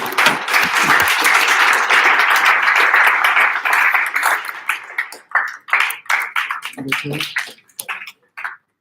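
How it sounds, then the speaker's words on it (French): Audience applause at a conference session, a dense wash of clapping for several seconds that thins out into scattered, separate claps before fading. "Applaudissements."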